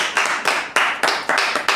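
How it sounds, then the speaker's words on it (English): A few people clap together after a presentation, loud, close and slightly uneven, with about seven distinct bursts in quick rhythm. "Please, another round of applause, please."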